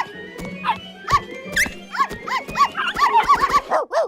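Puppies in an animated Barbie Dreamhouse scene yip and bark in a rapid run of short, high, bouncy yelps, growing busier and overlapping toward the end.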